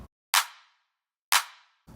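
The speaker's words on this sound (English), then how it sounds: "Here's the clap by itself" Two sharp, bright electronic clap sample hits about a second apart, each with a crisp snap and a short fading tail, separated by silence.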